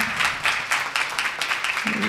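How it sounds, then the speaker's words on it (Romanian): Audience applause after a request to clap for Oana and Carmen at a Zilele Biz 2022 conference session, a fairly loud, steady wash of many hands with uneven pulses throughout. "Oana, Carmen, aplauze vă rog"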